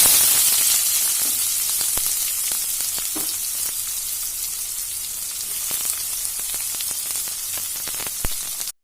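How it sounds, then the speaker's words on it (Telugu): Onions and green chillies fry in hot oil in a pan, a continuous bright crackling sizzle with scattered pops, steady and close throughout with no voices. "వేడయ్యాక కొంచెం ఆయిల్, మిర్చి వేగాక ఉల్లిపాయలు వేసుకోవాలి"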